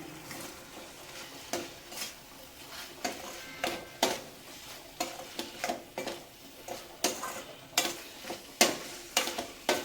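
Raw banana slices are stir-fried on low flame with chilli powder and turmeric for a vazhakkai varuval. A spatula scrapes the pan in repeated rhythmic strokes over a steady background sizzle, close and clear.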